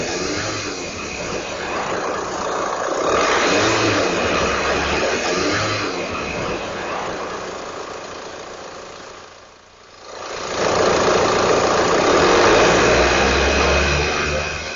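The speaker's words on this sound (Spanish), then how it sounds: "Con el motor en marcha" A car engine runs steadily, rising and falling in intensity, briefly dropping near the end before revving back up loudly.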